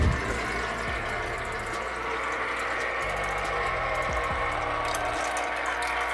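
Aquarium filter pumping water in a freshly set up 29-gallon fish tank, a steady rushing, splashing flow with a low pulsing motor hum, continuous and fairly close, no talking.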